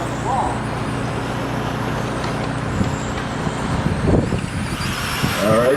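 Race cars roar off the start of a season-ending main event at Toledo, producing a broad engine and traffic-like rumble that swells toward the end, with a voice faintly audible in the mix.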